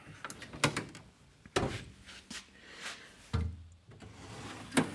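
Drawers of a Snap-on tool box slide and clunk in a garage, giving sharp metallic clicks, thuds and short rolling scrapes spread unevenly across the clip.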